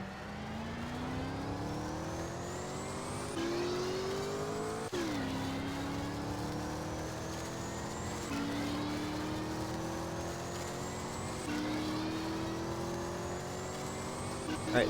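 A DeLorean in the Garry's Mod video game accelerating hard: the engine note climbs steadily through repeated gear shifts, each shift dropping the pitch before it rises again, loud and continuous.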